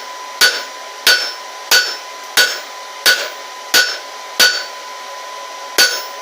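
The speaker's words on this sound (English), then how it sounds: "We're just going to planish it up with the remaining residual heat here at black heat." A hammer planishing hot steel at black heat on an anvil for a twisted handle, eight sharp ringing blows at an even pace, loud and close, with no talk.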